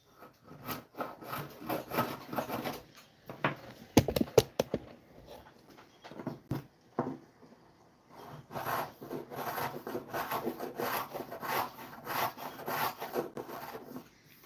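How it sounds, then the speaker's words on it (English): A bronze hand tool rasps along the edge of a cherry wood bench, cutting a chamfer in bursts of scraping strokes, close and fairly quiet, with a pause and a few sharp taps midway. "I'm just going to put a nice little chamfer on the edge of my bench"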